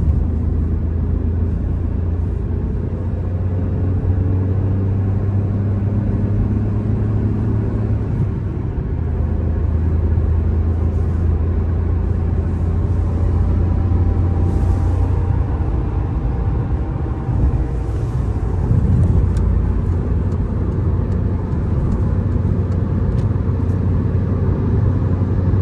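Inside a Peugeot car cruising at 100 km/h, a steady low road and engine rumble continues evenly throughout with no talking.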